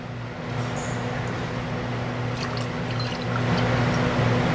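Two ounces of cachaça poured into a glass for a caipirinha, a steady close liquid pour and trickle over a constant low background hum, with no talk.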